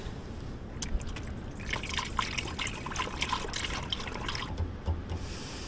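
Coolant poured into the low coolant reservoir of an old Ford tractor that had sat for years, a soft steady trickle and drip of liquid, faint and close, with no talking.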